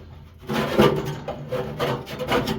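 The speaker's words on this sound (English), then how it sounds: "Give her a little scraping back here." Ash is scraped out of a pellet grill with a few rough, rasping strokes of metal dragging over metal and residue, close and moderately loud, with no talk.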